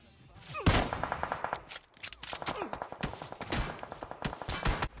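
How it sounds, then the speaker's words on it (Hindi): Rapid bursts of gunfire in PUBG Mobile, repeated rattling volleys with short pauses, under a voice talking throughout. "धैड़ पैड़ गोलियां चलाना शुरू करते हैं"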